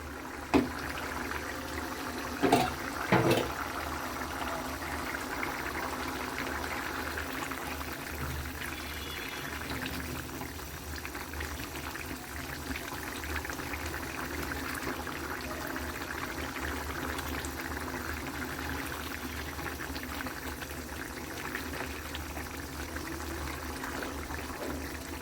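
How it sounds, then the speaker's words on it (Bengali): Curry bubbling in a covered pot on the stove, a steady low simmering hiss with a couple of brief clinks near the start. "তরকারিটা খুব সুন্দরভাবে এখন ফুটে গেছে।"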